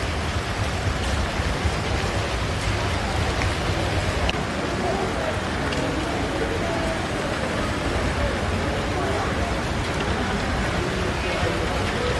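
Steady rain patters down outside Kozhikode Beach Hospital onto a long queue of waiting patients, a dense, even hiss throughout with a faint murmur of the crowd beneath it.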